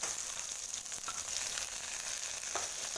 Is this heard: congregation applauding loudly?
no